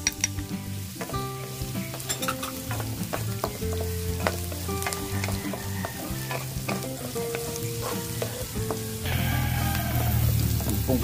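Onions sauté in a hot pan for pork picadillo: a continuous close sizzle and crackle with occasional stirring scrapes, growing louder and denser toward the end, no voices.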